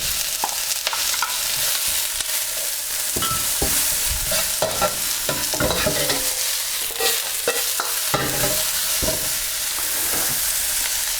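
Onions for satay beef sizzle hard in a hot pan, a continuous loud fry broken by the scrape and clatter of a utensil stirring them, with no voices.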